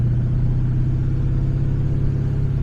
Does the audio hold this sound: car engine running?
yes